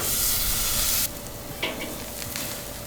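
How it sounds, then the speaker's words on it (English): Fillets sear on a charcoal grill with a loud, close, steady hiss and sizzle that drops abruptly partway through, followed by a few faint clinks and shuffles under a continuing softer sizzle. "And we're gonna sear the fillets."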